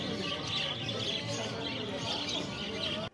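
Sun conure parrots chirp and call repeatedly at a bird market, bright overlapping squawks over a busy background murmur.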